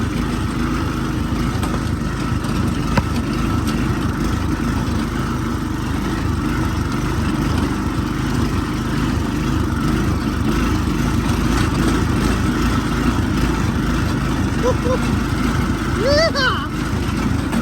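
A homemade go-kart with a new clutch runs steadily at close range during a ride, giving a continuous low mechanical rumble with wind noise and indistinct voices mixed in.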